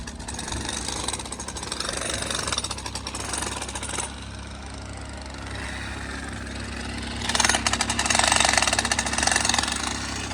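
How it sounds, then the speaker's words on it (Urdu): Drill machines pound steadily at a bridge construction site at Rathoa Haryam Bridge in Mirpur, Azad Kashmir, a loud, continuous rattling hammer with an engine drone beneath, swelling louder near the end with no voices. "مشینیں چلن لگی ہیں ڈرل"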